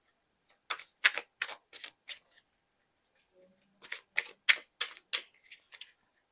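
Tarot cards shuffled by hand in two quick runs of soft, snappy riffles and flicks, close and fairly quiet, with a short pause between the bursts.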